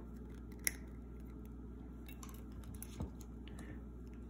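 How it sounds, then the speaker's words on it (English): A single sharp snip of scissors trimming excess wire from a handmade spiral necklace, followed by faint handling rustles and small clicks in a quiet room. "I have a little bit of extra, so I'm gonna cut that off"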